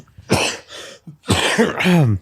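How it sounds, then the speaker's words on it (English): Two harsh coughs in quick succession, close and loud, the second rougher and throatier, with no talking around them. "Sorry, that was a cough actually"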